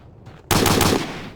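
A burst of automatic machine gun fire in the video game Hidden & Dangerous, a loud rapid rattle of about half a second that cuts in suddenly after a brief quiet lead-in, with no voices.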